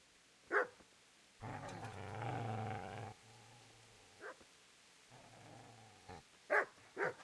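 A dog in the video game Kingdom Come: Deliverance growls low and rumbling in two stretches, with several sharp barks scattered around them, fairly quiet overall.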